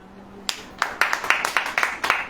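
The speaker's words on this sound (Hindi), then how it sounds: "ताली बजाओ।" A church audience claps along to a sermon, a steady run of sharp, evenly spaced claps starting after a brief pause, close and fairly loud.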